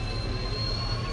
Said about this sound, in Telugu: ఇంటర్సిటీ ఎక్స్ప్రెస్ కేవలం ఒక నిమిషం మాత్రమే ఇక్కడ